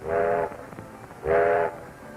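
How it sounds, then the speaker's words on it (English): Two short, loud blasts of a Great Northern Railway locomotive whistle in a rail yard, a steady harmonic tone sounding twice with a brief pause between. "An engineer sounds the whistle to come in on the repair track"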